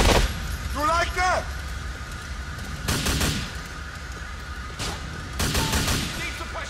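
Gunfire in the video game GTA 4, The Ballad of Gay Tony, several separate bursts of rapid shots spaced a second or two apart, loud and close over game ambience, with a voice shouting in the game between bursts.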